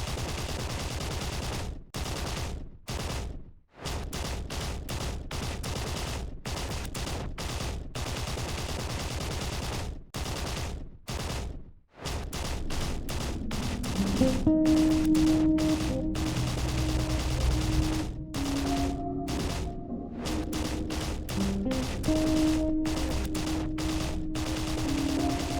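Repeated gunfire in a staged battle scene, sharp loud bursts of shots coming in rapid volleys with short gaps, then steadier firing beneath a low sustained musical drone and tones.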